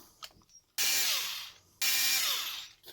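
A power driver removes 2.5 screws from a Redcat Kaiju RC truck, giving two sustained whirring bursts, each about a second long, close and loud, separated by short quiet gaps.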